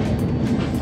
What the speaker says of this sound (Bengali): এই হচ্ছে শতাব্দী এক্সপ্রেস